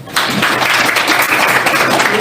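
An audience at a meeting for victims of state violence bursts into brief, dense clapping that starts abruptly and holds loud and close for about two seconds.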